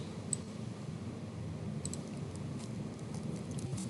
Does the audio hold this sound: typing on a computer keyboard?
yes